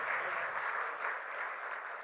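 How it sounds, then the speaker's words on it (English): An audience at a CEO's conclave at Petrotech-2016 in New Delhi gives a round of applause to a speaker, a steady, moderately distant wash of many hands clapping. "I would request a huge round of applause for Mr. Simon Flowers"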